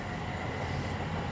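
A Stansted Express train pulling into Stansted Mountfitchet station, a steady low rumble of wheels and carriages rolling along the rails, fairly close and continuous with no talking.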